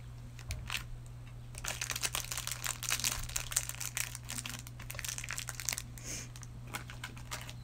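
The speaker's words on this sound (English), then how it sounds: "Give you some crinkles. Crinkle goodness." Crinkly plastic or wrapper being crumpled by hand at a clay workbench, a dense run of close, crisp crackles lasting several seconds over a steady low hum.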